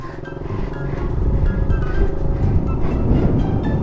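A motorcycle engine rumbles and builds in loudness as a learner rider lets out the clutch and gives throttle, close and continuous.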